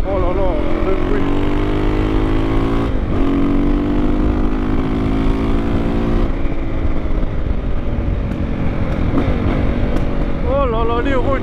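A KTM 525 EXC motorcycle engine droning loud and close with shifting revs and rough harmonic buzz, occasional sharp cracks from the exhaust, and someone speaking over it.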